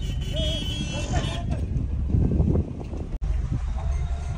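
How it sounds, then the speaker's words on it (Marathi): Busy road traffic with engines rumbling and car horns honking now and then, with voices talking close by. "ट्रॅफिक आहे"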